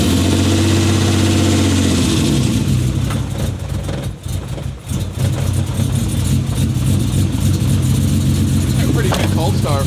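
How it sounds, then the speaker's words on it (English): An LS-swapped car with a big cam fires up cold and settles into a loud, lumpy idle with an uneven engine rumble. A brief dip comes midway, then the deep throb continues steadily. "a pretty good cold start for a big old cam car."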